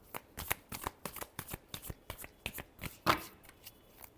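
A deck of tarot cards being riffled and tapped in a steady, rapid rhythm of crisp papery flutters, close and clear with no talking over it.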